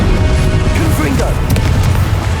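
Fiery explosion spell in Hogwarts Legacy combat, a loud continuous booming rumble with bursts layered over busy battle effects, and a voice heard briefly amid the din.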